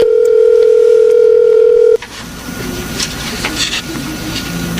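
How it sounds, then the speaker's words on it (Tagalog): A cellphone placing a call: a loud, steady dial-type tone holds for about two seconds, then cuts off abruptly to a quiet hiss with faint clicks. "Tatawagan ko siya gamit yung cellphone ko."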